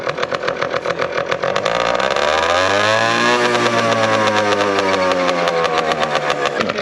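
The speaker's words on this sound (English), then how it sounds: "Cold start, one little kick, you know." A moped engine kicked over from cold catches and settles into a loud, steady close-range idle with a brief rise in revs partway through, no talking.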